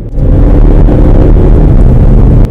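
A diesel car that has been filled with petrol accelerates on the road, its engine giving a loud, heavy low rumble heard from inside the cabin, steady and unbroken throughout.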